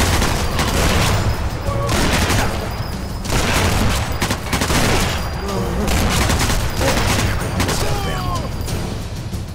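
Gunfire from the WWII sniper game Sniper Elite 4, with a dense, loud barrage of shots and booming impacts spread across the whole stretch, heavy and continuous rather than isolated single rifle cracks.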